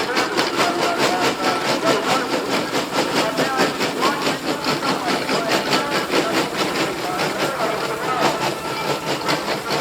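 A steam engine at a steam rally runs close by, chuffing and clanking in a fast, even rhythm that stays loud and unbroken throughout.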